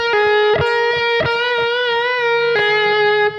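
Electric guitar played through effects with a slightly distorted tone, sounding a Lydian progression as a sustained melodic line with several sharp plucked attacks, loud and close with no talking.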